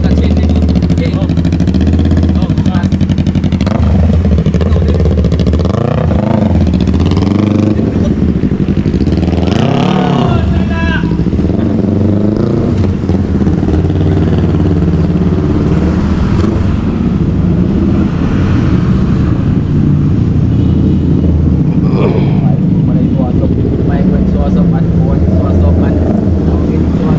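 A motorcycle engine and exhaust pipe droning steadily while riding, loud and constant with shifting revs and rushing wind, a voice talking now and then over it.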